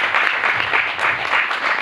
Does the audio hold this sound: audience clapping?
yes